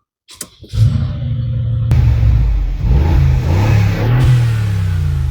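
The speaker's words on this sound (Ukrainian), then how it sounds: "А ну зараз запустимо і зацінити вихлоп." A 2017 Mercedes G-Class engine cranks and fires up, then the exhaust revs loudly in repeated bursts with a deep rumbling idle between.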